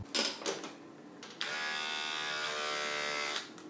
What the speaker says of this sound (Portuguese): Um barbeador elétrico.